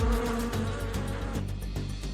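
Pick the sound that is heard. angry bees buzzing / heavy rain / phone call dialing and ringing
angry bees buzzing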